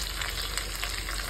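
Curry leaves and chillies fry in hot oil, giving a constant, close sizzling hiss with light crackle, and no talking.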